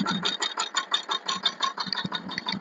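A power tiller engine runs in a farm field with a fast, steady putter of regular pulses, close and moderately loud, and faint speech in the background.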